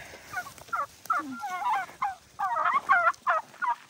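Turkeys being herded toward their coop at evening give repeated close gobbles in bursts, with short pauses between calls.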